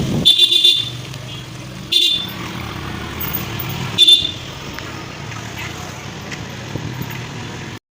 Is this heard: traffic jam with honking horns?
yes